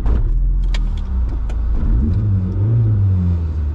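A Volkswagen Golf 2 GTI engine revs loudly up close, a steady deep idle rising and falling through a couple of throttle blips without any talk.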